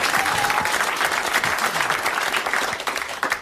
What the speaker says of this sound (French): D'abord, vous allez applaudir Monsieur Le Pin de Quimper, comme il le méri